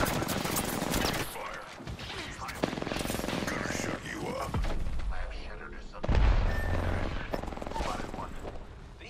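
Gunfire in Apex Legends during a fight with two enemy squads: dense, sustained automatic bursts and heavy thuds, loud and close, with a player talking over the shooting.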